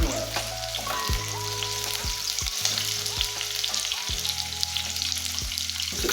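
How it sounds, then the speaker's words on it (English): Onion stir-frying in a pan for vegetable stew, a steady close sizzle and crackle broken by periodic scraping stirs at a regular rhythm. "for vegetable rice, we're going to add in our onion."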